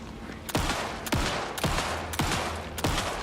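Gunshots in the survival horror game Alan Wake 2: five loud, evenly spaced shots about half a second apart, each with a sharp crack and a brief falling tail, over a low rumbling background with no talk.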